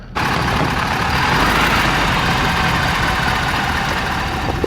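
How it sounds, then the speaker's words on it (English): An overland truck's engine idles and rumbles as it creeps along to find a level campsite, a steady, close, low drone with no speech over it. "I might be able to get level just by driving."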